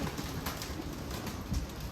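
Pigeons coo softly amid a dense, noisy background hum, low and muffled murmurs that are hard to pick out over the steady ambient rumble.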